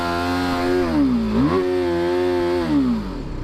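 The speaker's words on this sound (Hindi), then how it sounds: "ये इसका आप लोग को एग्जॉस्ट नोट एक बार सुना देते हैं" BMW 310R motorcycle exhaust revving up close, a buzzy single-cylinder note that dips, jumps back up and holds before easing off, with no talk over it.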